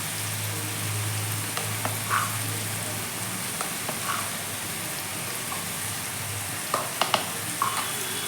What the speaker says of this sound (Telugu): ఆ కొబ్బరికారాన్ని వేసేసి కాసేపు వేగనిద్దాం